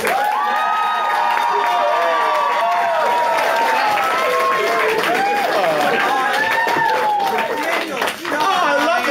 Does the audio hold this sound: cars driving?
no